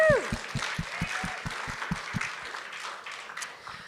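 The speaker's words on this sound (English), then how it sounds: "a massive round of applause for the biodefense section and everything that was in it" Conference audience at a Devcon SEA breakout session applauding after the biodefense section, a sustained round of clapping with some louder rhythmic claps near the start that fades gradually.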